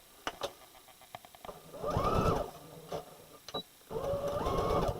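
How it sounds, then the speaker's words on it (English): A sewing machine runs a straight stitch on a garment from Simplicity pattern S9456, in two short bursts of fast, rhythmic whirring separated by light mechanical clicks and taps, heard close and fairly quiet. "put it on the machine and stitch around it just with a straight stitch"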